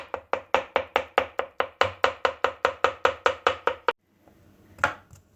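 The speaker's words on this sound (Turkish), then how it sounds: "Közlenmiş olan patlıcanlarımızı bu şekilde ince ince kıyıyoruz." Rapid, steady knife chopping of roasted eggplant on a board, about a dozen crisp strokes in quick rhythm, then a pause and one softer thud.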